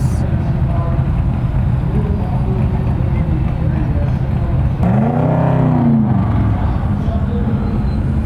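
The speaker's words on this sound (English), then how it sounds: "C7 coming up here, revving." A steady loud Chevrolet Corvette C7 Z06 engine drone fills the scene at a car cruise, with one rising and falling rev swell midway, under wind and a talking voice.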